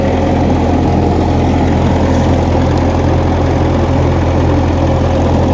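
A 1956 Massey Ferguson F40 tractor engine idles steadily up close, a loud, even low rumble with a constant mechanical throb and no talking.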